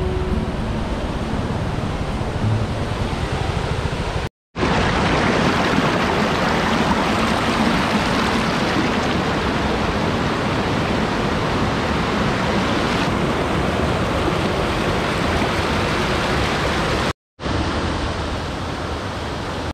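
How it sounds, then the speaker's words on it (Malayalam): A small stream at Peedikappara on a road trip toward Kakkadampoyil rushes close by as a loud, steady broadband wash, continuous apart from two short silent breaks. "യാത്രാ മധ്യേ പീടികപ്പാറ എന്ന സ്ഥലത്ത് ഒരു ചെറിയൊരു അരുവിയുണ്ട്"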